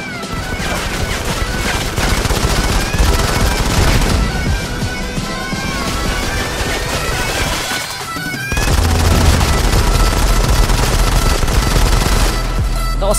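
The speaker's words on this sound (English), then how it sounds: "That was flashbang." Loud, dense gunfire and explosions from a Modern Combat 5 squad battle, with a sharp flashbang grenade blast among the constant shooting and a heavier burst partway through.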